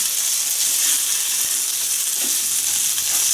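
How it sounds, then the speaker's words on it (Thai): Hoi tod, a Thai fried oyster pancake, sizzles crisply in hot oil in a pan, a steady close bright frying hiss with no talking. "เดี๋ยวอีกด้านนึงเราก็จะทอดให้เขากรอบเช่นเดียวกันนะคะ"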